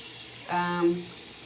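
Semi-cold tap water runs briefly from a faucet into a sink for face washing, a short close splash that swells and fades within about half a second.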